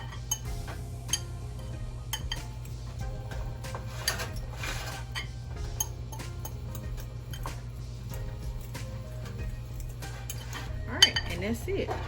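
Seasoned flour for onion rings being mixed in a bowl, a rapid run of light clicks and taps of a utensil against the bowl, close and fairly loud, with a brief voice near the end.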